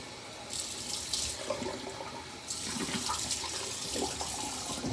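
Running tap water fills a sink while a rag is rinsed and rubbed in it, a steady close rush with bursts of splashing as the cloth moves through the stream.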